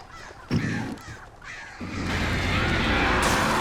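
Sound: crows cawing in the video game Alan Wake

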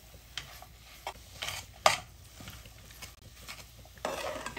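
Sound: stirring carrot halwa with powdered milk

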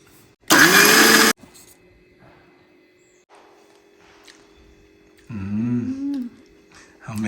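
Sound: mixer grinder grinding roasted dried fish and spices

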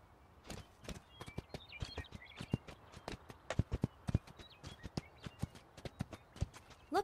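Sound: horse Spirit galloping hooves, from a video game

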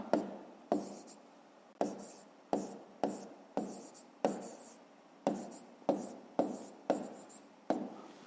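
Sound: pen writing on paper during a math solution

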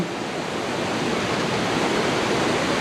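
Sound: waterfall

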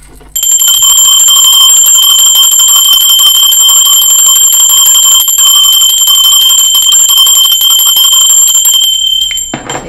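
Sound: bell ringing loudly

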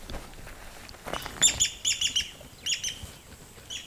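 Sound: many birds calling by a river in Zambia

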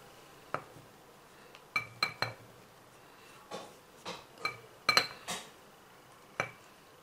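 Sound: mixing kasturi turmeric powder into herbal face powder

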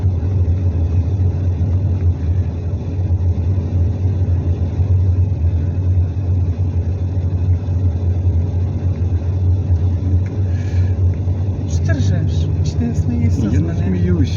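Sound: car driving through forest

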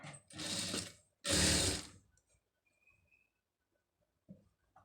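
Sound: sewing machine stitching a blouse neck design

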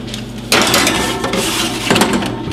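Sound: tray of fries put into the preheated oven

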